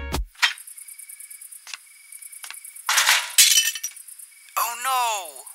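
A glass of milk breaks in an animated story scene, a crashing shatter with scattered clinks and chinks around it, followed by a voice speaking.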